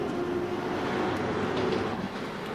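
An RER A commuter train rolls at speed through a tunnel under Paris, a loud, continuous rushing roar with a steady tonal whine and faint wheel clatter, no voices.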